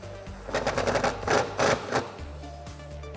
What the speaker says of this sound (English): We're gonna use that same T40 Torx to tighten these back up